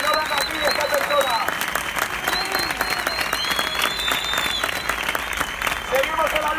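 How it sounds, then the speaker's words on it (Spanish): A protest crowd in Vallecas applauds steadily throughout, dense clapping mixed with cheers, whistles and shouting voices, all loud and close. "Un aplauso para esa gente que ha estado luchando"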